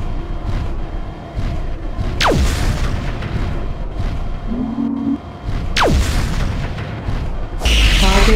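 Explosions destroy a target in the video game MechWarrior 4: Mercenaries. Two descending whistles end in heavy booms over a constant low rumble of battle noise.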